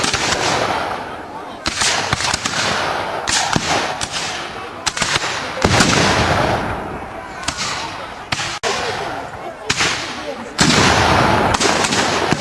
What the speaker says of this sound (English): Another cannon shot.